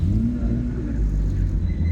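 BMW E36 engine giving a short deep rev, a low rumbling growl that rises briefly and stays close and loud throughout, with no speech.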